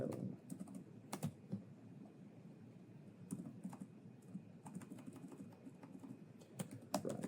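Quiet typing on a computer keyboard, a close, irregular run of light key clicks with brief pauses, over faint room hum.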